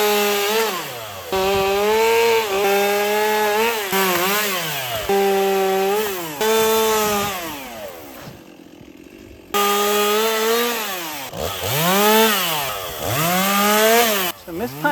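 A wood chipper on a homestead chews through branches with a loud, close engine drone that bogs and recovers in repeated dips as each load feeds in. It pauses briefly partway through before growling back up.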